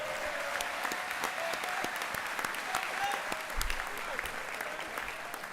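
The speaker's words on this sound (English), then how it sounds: "I would like a big round of applause for our lovely head of school, Miss Gleason." An audience at a commencement ceremony claps steadily, a thick wash of applause holding at even loudness throughout, with a few scattered shouts.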